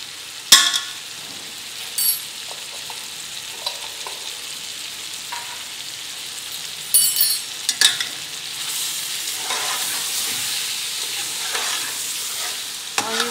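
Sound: meat frying with spices for Afghani pulao

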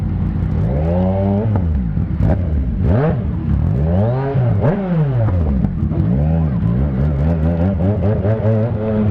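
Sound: motorcycle with full exhaust system revving in standard mode

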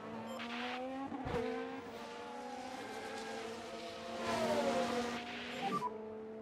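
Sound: racing cars driving in F1 Manager 2023 video game

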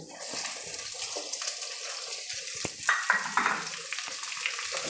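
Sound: garlic and onion frying in pan for methi dal

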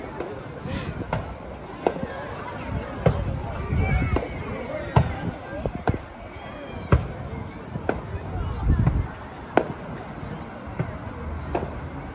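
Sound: fireworks

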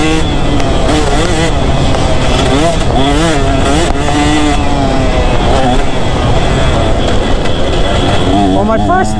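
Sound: two-stroke dirt bike engine revving while riding

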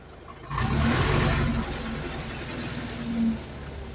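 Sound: car engine idling with revs dropping slowly

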